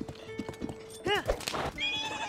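Horse hooves clip-clop in Zelda: Tears of the Kingdom as a horse trots near a stable, with a whinny partway through and game music running underneath.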